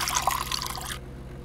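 Water trickles and splashes into a cup in Fears to Fathom, a short close pour that stops abruptly after about a second.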